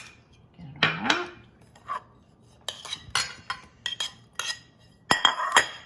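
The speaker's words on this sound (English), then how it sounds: "we're gonna mix up some yogurt and I chopped up some raspberries, so we're gonna mix that all together" A spoon mixes yogurt with chopped raspberries in a bowl, giving scattered clinks and scrapes against the bowl in short irregular bursts, close up and fairly quiet.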